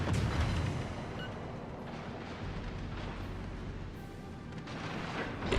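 Naval guns boom from warships in the World of Warships: Legends game, a dense, rumbling barrage of heavy blasts that rolls on continuously with no speech.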